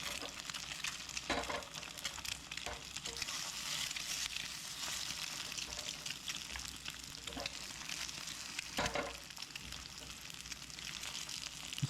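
Eggs sizzle steadily in a hot pan for a breakfast, a constant bright frying hiss with a few faint scraping clicks of a spatula, close and without talk.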